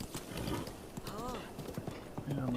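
Soft horse hooves clip-clopping at a steady walking pace in The Legend of Zelda: Breath of the Wild, with a brief whinny-like tonal sound and some faint background sounds.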